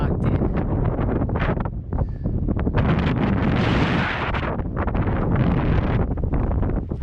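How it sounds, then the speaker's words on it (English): Strong wind roars steadily across the microphone on a fog-covered mountain trail near Carver's Gap heading up Round Bald on the Appalachian Trail, buffeting loudly with gusts throughout and no voice. "Real windy."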